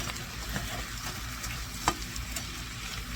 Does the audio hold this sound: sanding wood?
no